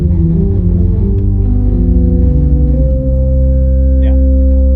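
Deep, sustained bass stops of a huge 1922 Skinner/1950 Möller pipe organ sound together, a loud steady low chord shifting through several held notes without pause and no voices.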